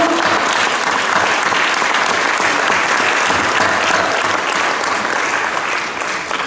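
Sustained applause from a church congregation honoring the sacrament of confession, a dense, steady wash of many hands clapping at close range, loud and even throughout without talk.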